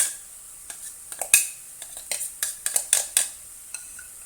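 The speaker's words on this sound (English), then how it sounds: "Saute the onion and garlic over low to medium heat" Onion and garlic sautéing over low to medium heat for Malaysian sambal belacan, soft sizzling broken by repeated sharp scrapes and clinks of a utensil against the pan at an uneven pace.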